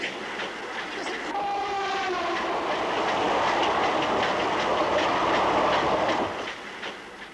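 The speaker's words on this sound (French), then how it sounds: "Il a 20 minutes de retard, notre train express." An express train pulls into a station, a rising rush of wheels and rolling rail noise with a brief horn tone near the start, growing louder and then easing off as it passes close by.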